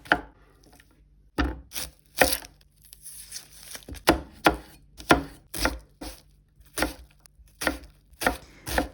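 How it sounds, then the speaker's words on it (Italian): A knife chops zucchini on a cutting board, a dozen or so crisp, sharp strikes in an uneven rhythm with short pauses, close and alone. "Iniziamo tagliando 2 zucchine"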